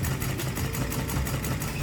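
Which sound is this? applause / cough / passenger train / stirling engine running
stirling engine running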